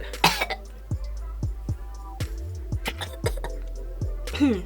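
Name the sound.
coughing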